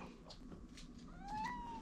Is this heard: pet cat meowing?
yes